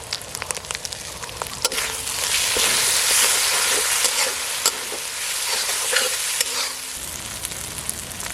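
Prepared spice paste goes into a hot oiled pan for a tengra fish curry, setting off a loud steady sizzle and frying hiss with scraping stirring strokes, close up and with no talk.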